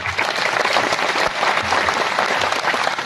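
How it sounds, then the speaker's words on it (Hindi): Audience at a Hindi poetry recital applauding in a large hall, a broad and continuous wash of clapping from many hands that stays even and sustained throughout. "ज्यादा बज सकती हैं, इससे भी ज्यादा बज सकती है तालियां"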